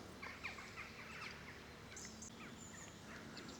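Faint birdsong chirps and calls sound from a distance over a soft, steady outdoor hiss, on a countryside walk between Hever and Ashurst in Kent.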